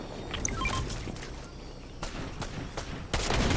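Rapid gunfire bursts in Fortnite, dense and close, rattling in repeated volleys over a busy game-mix background, with a louder burst near the end.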